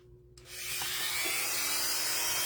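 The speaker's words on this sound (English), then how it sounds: "I'm going to use my Dremel and I'm going to drill a hole right in the front of this for the head" A Dremel rotary tool whirs up and drills into a wooden snowman craft piece, a steady high-pitched grinding whine that starts abruptly and holds close and loud.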